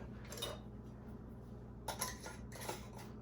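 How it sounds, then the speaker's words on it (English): Metal rings being screwed onto glass canning jars: a few close, quiet metallic scrapes and clinks in short bursts against a steady low hum. "I'm going to put the rings on fingertip tight."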